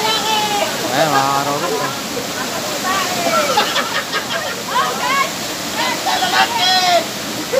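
Rushing water of Daranak Falls pours into the lagoon as a steady broadband roar, with people talking and calling out over it throughout.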